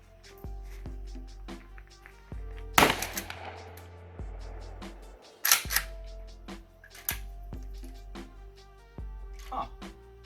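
Shotgun blasts on a firing range from purple shotgun shells aimed at targets, two loud close booms a few seconds apart with a sharp snap near the end, among steady clicking and handling noise.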